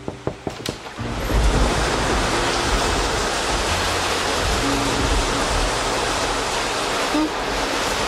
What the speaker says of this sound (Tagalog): Pinapaalalahanan ng lahat na mag-ingat sa patuloy na pagbuhos ng ulan